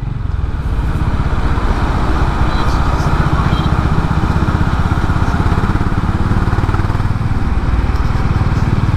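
A Honda CB 350 H'ness single-cylinder motorcycle engine thumps steadily while riding, a loud continuous pulsing drone with wind noise throughout.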